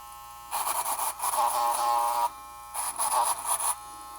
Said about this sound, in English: Now this machine has a brushless rotary motor. Let's test the torque and put it through a brush real quick.